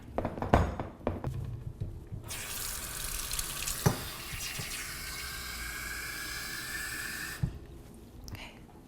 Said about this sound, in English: I'm going to put just a little bit of water in this microwavable container to help support it cooking